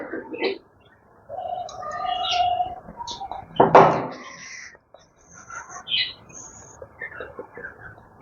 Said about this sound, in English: It's sunset time. My birds are chirping.